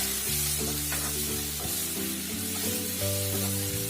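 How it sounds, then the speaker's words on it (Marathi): Finely chopped green and red tomatoes hit browned onions in a hot pan for dhaba-style dal tadka, giving a steady, close sizzle with faint stirring scrapes throughout. "आता आपण याच्यात टोमॅटो टाकू, बारीक चिरलेला."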